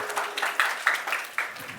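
Scattered hand clapping from a small audience at a magic show for a girl named Meera, brief and moderately close, with uneven bursts of claps over under two seconds.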